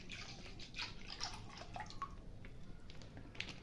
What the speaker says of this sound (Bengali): এখানে 1/2 লিটার দুধ দিয়ে দিলাম।